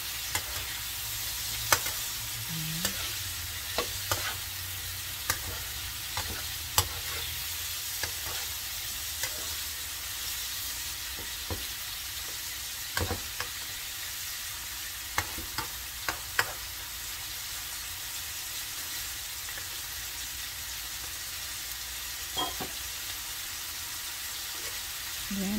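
A pot of food fries on the stove while being stirred with frequent scrapes and clinks over a steady sizzle, close and continuous with no talk.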